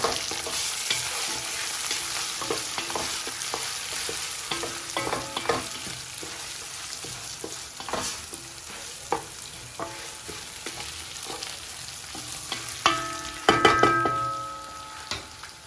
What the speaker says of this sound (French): On va remuer rapidement.